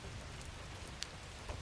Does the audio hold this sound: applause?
no